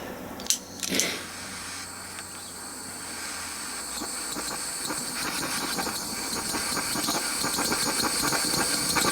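A heat torch roars with a steady, loud hiss onto a stuck part of a Land Rover Defender TD5 LT230 transfer box, preceded by a couple of sharp clanks at the start, with the flame noise building gradually.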